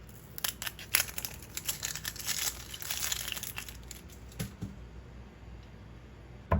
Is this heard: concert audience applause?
no